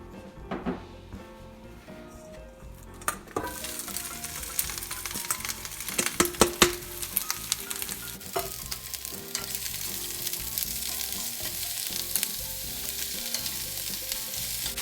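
Shakshuka ingredients sautéing in a Lodge cast iron skillet on a stove, a steady loud sizzle and frying hiss running throughout, broken by sharp utensil scrapes and clinks against the iron as the pan is stirred.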